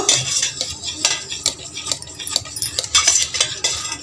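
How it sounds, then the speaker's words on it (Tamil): A utensil scrapes and clinks against a pan while gram flour, Horlicks and oil are stirred together for Mysore pak, giving a quick irregular series of close metallic scrapes and taps. "இப்போ வந்து ஆயில் ஊற்றி நல்லா வந்து நம்ம கலக்க போகிறோம்"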